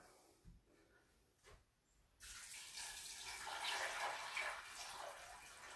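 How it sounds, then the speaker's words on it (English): Water runs steadily from a tap or jug into a pot of soaked dried beans, a continuous close splashing rush that starts abruptly after a few faint clinks and keeps going to the end. "And then we're just gonna cover them with water."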